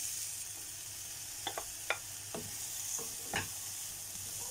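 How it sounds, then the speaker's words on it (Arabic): Green peppers stir-fried in a wok with little or no oil give a steady low sizzle, with a few sharp scrapes and clacks of the spatula against the pan scattered through the moment. "هناخد برضو الفلفل بقى الاخضر نديله تشويحه"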